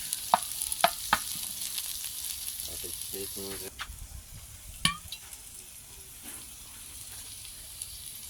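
Queen, king and soldier termites pan-fry in a tawa pan with a soft, steady sizzle, punctuated by sharp clicks and scrapes of stirring; faint and fairly close.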